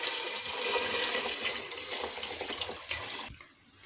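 Water pours and splashes steadily into a cooking pot of lentils and spices for a few seconds, then tapers off abruptly near the end.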